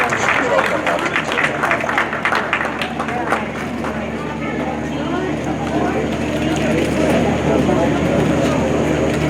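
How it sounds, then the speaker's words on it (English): A crowd at a junior livestock show claps for exhibitors who brought heifers into the ring, giving broad, steady applause that carries loud through the whole stretch over background noise. "give everybody else a round of applause for bringing these heifers out"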